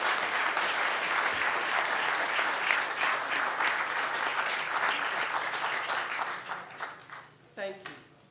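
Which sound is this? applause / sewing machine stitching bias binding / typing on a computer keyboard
applause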